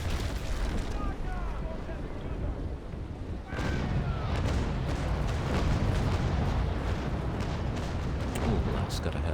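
Ship cannons firing during a naval battle in the sailing game Naval Action, a dense rumbling barrage of booms over constant wind and sea noise, loud and continuous, with no clear pauses.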